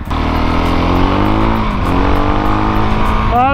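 A supermoto motorcycle accelerates hard nearby, its engine note climbing steadily through a gear with a loud, continuous buzzing drone and a fresh surge at the end.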